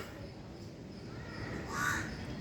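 A crow caws once, fairly loud and fairly close, near the end of a short stretch of steady outdoor background noise, during a morning squabble between crows and a black cat over milk.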